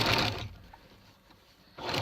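A sewing machine runs in two short bursts while gathering fabric, loud at the start, quieter through the middle, and loud again at the end.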